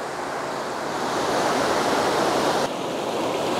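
A mountain stream rushes nearby in a forest in Canada, making a loud, steady wash of flowing water with no talk over it.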